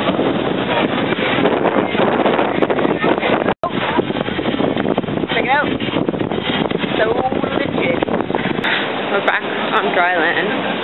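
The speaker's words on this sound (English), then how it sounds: "We're going on a catamaran." Strong wind buffets the microphone over the rush of a catamaran sailing through water off Waikiki, with voices faintly mixed in.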